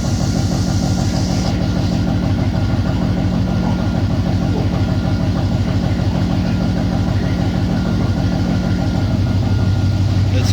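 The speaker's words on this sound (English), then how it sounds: "the idle's tuned real good" A 1968 Pontiac V8 fitted with Holley Sniper fuel injection idles steadily and close, a continuous low rumble with a fast, even pulse that holds throughout, while a voice speaks faintly underneath.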